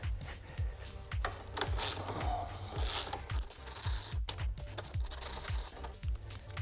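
Ratchet wrench loosening bolts on the rear fender of a 2003-2006 Honda CBR 600RR, a close series of rapid rhythmic clicking strokes repeating steadily, with no talk.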